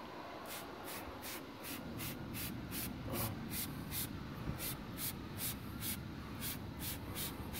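A trigger sprayer fires Blush wheel cleaner onto car wheels in about fifteen quick, even hissing bursts, close and fairly quiet over a low background rumble.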